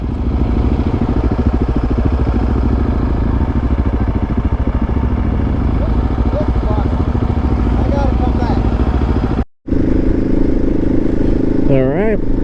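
Motorcycle climbing a snowy mountain pass around 11,000 feet with snow falling, its engine droning steadily and close throughout, with wind rush and a brief dropout near the end.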